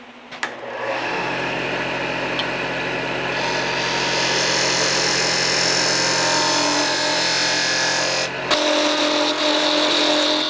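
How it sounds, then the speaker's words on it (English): A wood lathe turns a tenon for chucking on a turning blank for a tool-rest stop collar, giving a steady loud motor drone with a continuous broadband cutting hiss for about eight seconds, then a brief drop as the tool lifts off. "turn a tenon for mounting it on my chuck there"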